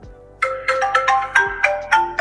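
A phone rings after a smartwatch's find-phone feature is triggered, sounding a bright melodic ringtone of rapid repeated electronic notes, loud and close, with no voices.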